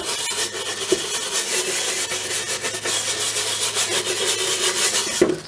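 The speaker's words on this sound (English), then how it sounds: "I got one of these brushes right here at the dollar store. I just go around and I scrub it." A cheap plastic brush scrubs briskly over a routed wooden sign, a steady close scratchy rasping that runs continuously with a couple of sharper knocks.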